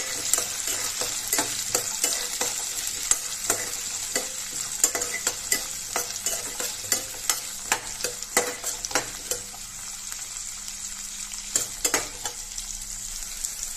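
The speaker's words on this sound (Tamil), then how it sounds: "இதை எண்ணெயில் நல்லா வறுத்து எடுத்துக்கலாம்." Garlic and shallots frying in oil in a pan, a constant close sizzle punctuated by frequent sharp clicks and scrapes of a spoon stirring, with no talking.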